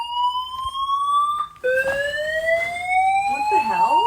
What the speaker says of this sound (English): It's our fire alarm.